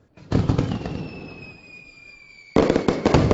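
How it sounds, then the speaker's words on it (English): Fireworks go off in two loud, crackling bursts close by, with a thin whistling tone trailing through the quieter gap between them. "And don't forget the fireworks."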